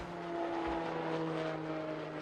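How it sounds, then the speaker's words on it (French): Propeller airplane passing low overhead near a home under a busy flight path, a loud continuous droning roar with steady tones that holds for the whole moment. "200 avions par jour en moyenne."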